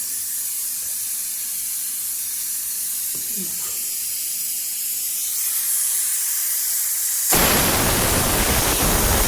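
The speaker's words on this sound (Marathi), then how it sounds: "आता आपली सिट्टी सुद्धा लागायला लागलेली आहे" A pressure cooker on a home kitchen stove releasing steam, a steady hiss that swells louder and rougher near the end, with a voice faintly underneath.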